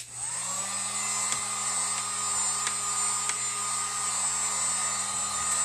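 Handheld hair dryer blowing steadily on a Dollar Tree sign craft, a loud continuous whir with a constant high whine running unbroken from start to finish, with no talking.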